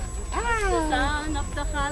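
A person voices a drawn-out, rising and falling meow in imitation of a cat, followed by shorter mewing sounds, close and clear over a low background rumble.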